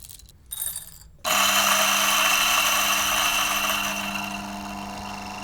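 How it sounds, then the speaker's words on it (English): A coffee grinder in the $350 to $650 class rattles with its dosing cup not seated properly, a loud steady mechanical whir and clatter that starts abruptly after a brief faint noise and eases slightly toward the end, with no talk. "Now you hear this rattling noise."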